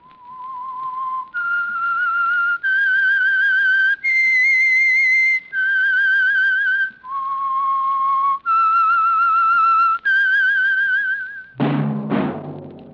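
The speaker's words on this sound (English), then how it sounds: "That whistle is your signal for the Signal Oil Program, The Whistler." A lone person whistles a slow, eerie melody of sustained notes as the theme signal of the old radio mystery program The Whistler, loud and clear, ending with a sudden burst of orchestral sound.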